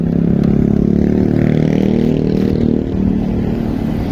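A repaired motorcycle engine idles and revs nearby, a loud, steady mechanical rumble with some clatter, dipping slightly near the end, no voices.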